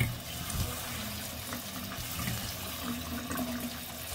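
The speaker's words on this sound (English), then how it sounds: "Make sure you wash your berries really well." American beautyberries are rinsed under running tap water, a steady close splashing flow with faint rustling as the berries are handled.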